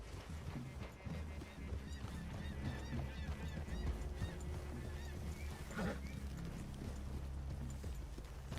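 Horses walking with steady clip-clopping hooves in Red Dead Redemption 2, set against a busy outdoor ambience with honking geese and other fowl, fairly even in level throughout.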